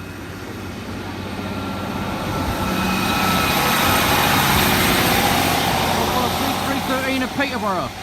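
A train on the Lincoln to Peterborough service passes the Metheringham level crossing, a loud steady rumble that swells and holds for several seconds close by, with a brief voice near the end.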